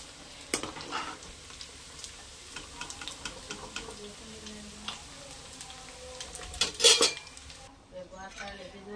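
Crisp fried chicken pieces for a chicken pickle clatter and clink as they drop into another vessel, giving a run of hard metallic knocks with a louder cluster near the end and faint sizzling underneath.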